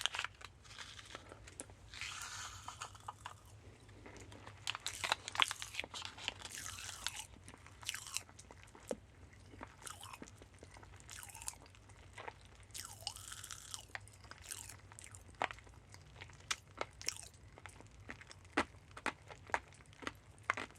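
Watermelon flavored candy is crunched and chewed close to the mic, a quiet, irregular stream of crisp bites, crackles and wet mastication with occasional wrapper crinkles.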